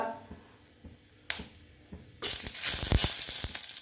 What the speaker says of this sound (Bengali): আর অল্প জিরে সম্বার দিলাম, জিরে দিলাম